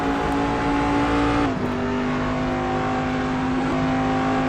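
Prototype P2 and GT3 race cars lapping Daytona in the Raceroom racing game, a loud, steady engine drone holding one pitch, with a brief shift or dip near the middle and no talk.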